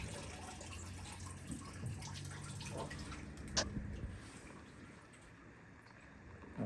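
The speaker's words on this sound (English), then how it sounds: "We're draining the coolant in the background now" Engine coolant drains from a broken-down vehicle during thermostat replacement, a soft steady trickle and drip of liquid running continuously at moderate distance, with one brief sharper knock partway through.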